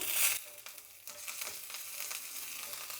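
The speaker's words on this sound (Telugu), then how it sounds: "చూడండి, ఇట్లా కలుపుతూ ఉంటేనే మనకు వడియం వేగిపోతుంది" Vadiyam crackles and sizzles in hot oil while it is stirred, a loud burst at first that settles into a steady hiss with soft scraping. The frying is close and there is no talk.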